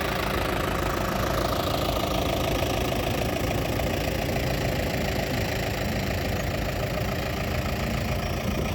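A New Holland TD95D four-cylinder tractor engine idles close by with a steady, loud, throbbing rumble that stays unbroken throughout.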